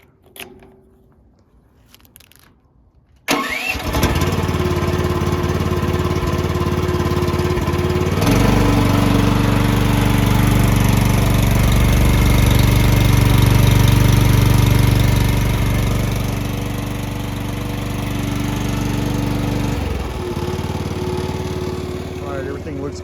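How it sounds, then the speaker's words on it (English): A cheap Chinese mini excavator's small engine cranks and catches, then runs steadily at low throttle with a buzzing, mower-like drone, loud and close, settling slightly near the end. "So now we're gonna fire it up, turn the battery on, pull the choke out, even though it doesn't hardly work."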